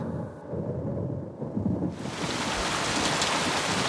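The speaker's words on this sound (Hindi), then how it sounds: "बारिश कहाँ से आ गई?" Steady rain hiss swells suddenly into a heavy downpour, with low rumbling thunder beneath; no voices.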